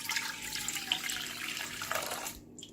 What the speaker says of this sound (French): Dans la cuve du pétrin, je vais mettre le lait tiède.